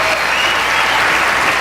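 Loud, close applause from a political debate audience, a thick continuous roar of clapping lasting under two seconds with no pauses.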